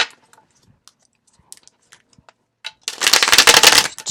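A tarot card deck is shuffled by hand in a quick, loud, crackling burst of riffling cards near the end, after a quiet stretch with only faint small handling noises.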